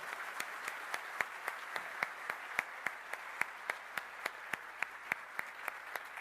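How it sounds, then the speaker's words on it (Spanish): An audience at a Peruvian knowledge-economy forum applauds speaker Federico Salazar, steady moderate clapping with distinct sharp claps at a regular pace running throughout. "Un fuerte aplauso, por favor"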